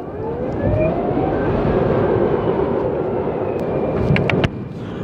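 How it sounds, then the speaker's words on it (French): A BMW C Evolution Long Range electric scooter accelerates, giving off a steady broadband whoosh with a faint rising electric whine, loud and close, ending in a few sharp clicks. "quand on accélère avec une moto électrique,"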